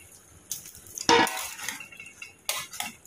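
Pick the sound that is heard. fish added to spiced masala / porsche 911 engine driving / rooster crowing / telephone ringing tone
fish added to spiced masala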